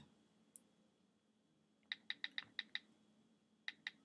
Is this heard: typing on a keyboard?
yes